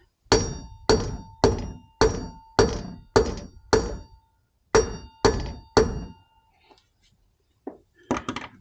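Metal-on-metal hammer taps driving a wheel bearing into a Suzuki SV650 motorcycle wheel, eleven sharp ringing knocks in a steady rhythm, close and loud, with a short pause midway and two faint taps near the end.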